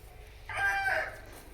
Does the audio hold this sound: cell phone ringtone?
no